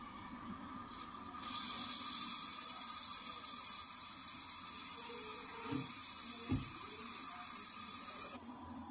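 A torch steadily hisses and roars while brazing the capillary tube on a refrigerator that is not cooling because of a clogged line, a constant close rush with faint handling knocks.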